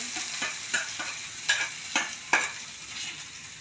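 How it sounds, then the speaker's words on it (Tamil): Dried red chilies and curry leaves are tempered in hot oil with popped mustard seeds and urad dal for a beetroot kootu. A soft frying hiss runs underneath while several sharper crackles and spatters burst out irregularly. "வரமிளகாய், கருவேப்பிலை, அப்படியே தாளித்து ஊற்றிட்டு"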